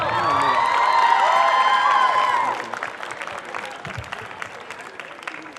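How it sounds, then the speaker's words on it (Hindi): A crowd at a 2019 alumni meet breaks into loud applause mixed with a few cheers. The clapping lasts about two and a half seconds, then fades into scattered claps and murmuring. "इनके लिए जोरदार तालियां."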